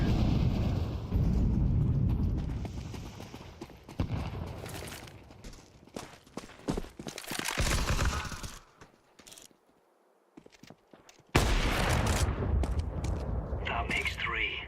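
Counter-Strike 2 grenade blasts and gunfire come in bursts of sharp cracks and booming explosions, with a quieter lull midway before loud, heavy rumble returns.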